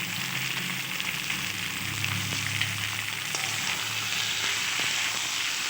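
Potato, carrot and brinjal tossed in a pan, with a steady close sizzle and faint scraping of a spatula as the vegetables are stirred, continuous throughout with no talk.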